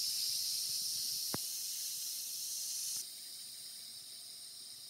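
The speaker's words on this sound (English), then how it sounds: "Seems like there's less and less steam coming out now." Steam hisses out of the pressure release valve of an Instant Pot, a steady close airy hiss that drops in level partway through, marked by a single brief click.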